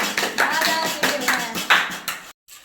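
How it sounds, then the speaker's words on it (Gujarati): A small group of people clapping in quick uneven bursts, close and fairly loud, ending abruptly in a brief silence before a faint trailing sound. "તાળીઓ બજાવો એના માટે"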